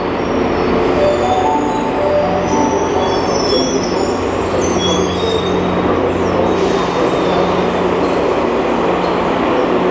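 A VIA Rail passenger train rumbles past loudly and close by in Toronto, with continuous roaring, clattering wheels and high metallic squeals throughout.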